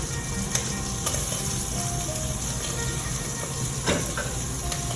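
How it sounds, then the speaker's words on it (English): Fresh chopped garlic sizzles in a pan with spinach, a steady close frying hiss with a few soft knocks of stirring and no voices. "We'll go ahead and add the fresh chopped garlic."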